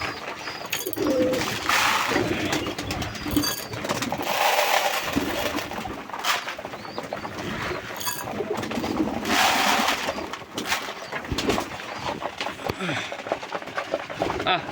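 A flock of pigeons coos and flutters while being fed grain outside under cloudy skies, soft repeated coos and wingbeats close by, with someone talking over them.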